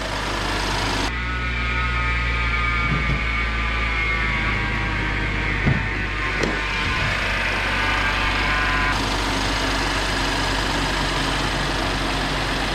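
A BMW X5 engine idles steadily after an idler pulley and serpentine belt replacement, giving a smooth, continuous low hum with a faint tonal whine and no talk.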